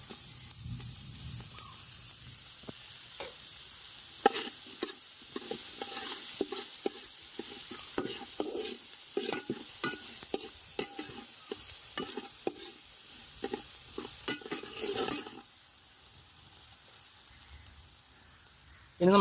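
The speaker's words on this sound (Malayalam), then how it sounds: "ഇനി നമുക്ക് ഇഞ്ചി വെളുത്തുള്ളി ചതച്ച് ഇട്ട് കൊടുക്കാം." Crushed ginger and garlic fry in a pan, a soft continuous sizzle broken by repeated scraping stir strokes, fairly quiet and close.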